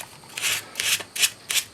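A 1950s Record No. 4 plane iron is rubbed with 400 grit sandpaper in four short, gritty strokes with brief gaps between them, close and distinct.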